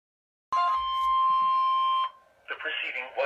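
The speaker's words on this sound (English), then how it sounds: "The preceding was a test of the National Weather Service warning alarm tone." A National Weather Service warning alarm tone test blares as a loud steady high-pitched tone for about a second and a half, then cuts off, followed by a voice talking.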